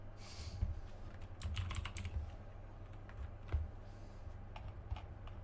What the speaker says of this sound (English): Nolan will have a quieter keyboard one day.